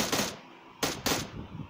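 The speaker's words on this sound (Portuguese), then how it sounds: "eu matei o maluco com um tiro só, velho" Gunfire from the video game PUBG: two or three sharp, loud shots in quick succession, close and punchy, with brief quiet gaps and faint ambient noise between.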